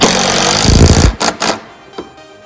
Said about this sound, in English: And then we'll fasten it in with one 3-inch screw.